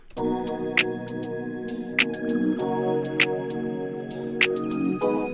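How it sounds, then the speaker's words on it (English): Sharp, bright open hi-hat hits repeat in a bouncy, uneven pattern over a club R&B beat with sustained synth chords underneath; no voice. "Got an open hat."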